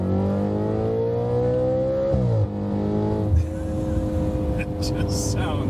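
An Audi quattro engine revs up as it is opened up, a loud rising drone that drops, then surges again, with a brief voice over the engine noise.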